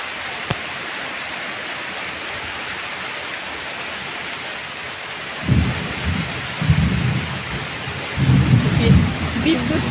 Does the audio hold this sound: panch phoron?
no